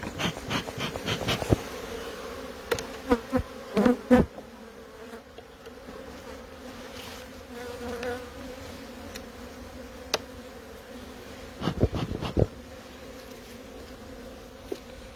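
Honeybees buzz around their hives during a spring inspection. The humming is faint and steady throughout, broken by a few sharp clicks and knocks from handling the frames, with no talking.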